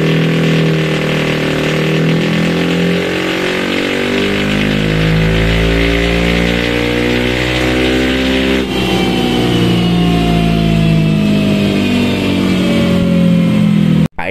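Honda Beat scooter with an MT8 Racing 5 exhaust revving on a dyno, the engine climbing in a long, loud, rising whine, briefly dipping, then pushing on steadily before cutting off abruptly.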